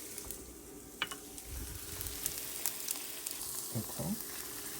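Oiled noodles sizzle and fry in a hot pan with a steady crackle, and occasional stirring and scraping sounds come through, close up and with no talking.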